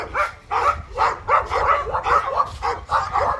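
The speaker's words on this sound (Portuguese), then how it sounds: "Cachorrado." Dogs bark repeatedly and loudly at close range, in a rapid, fairly regular series of sharp yaps and barks.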